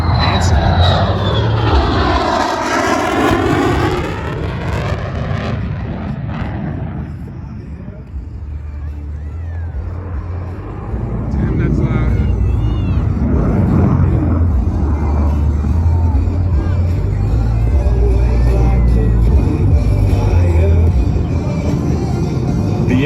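An F-35A fighter jet roars loudly at an airshow, its engine noise sweeping and shifting pitch at the start and then settling into a steady, heavy rumble that lasts throughout.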